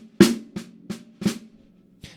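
Snare drum played with sticks at a very slow tempo through a flamacue rudiment, five crisp separate strokes with flams and an accent, spaced out and close.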